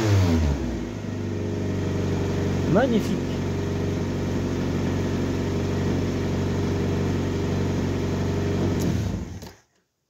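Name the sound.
Citroën BX 14 car engine revving and idling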